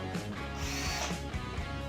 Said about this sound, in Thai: หมุนจากหัวจับจับดอกสว่านได้เร็วนะครับ